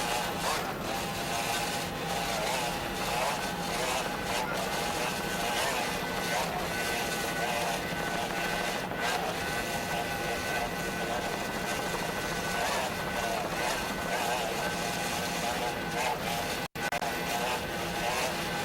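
An onboard 28-foot Skater offshore racing powerboat at the 1993 US offshore race in Fort Lauderdale gives a loud, continuous engine roar with hull and wind rush. It is steady throughout, with one brief dropout near the end.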